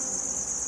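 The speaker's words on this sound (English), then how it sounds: "We're talking crickets." Crickets keep up a steady, high, shrill chirring with no break, alone and moderately faint.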